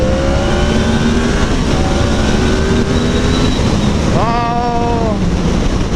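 A motorcycle engine rising in pitch as it accelerates at part throttle, a steady loud drone with harmonics climbing, then a quick upward surge near the end, heavy wind buffeting throughout.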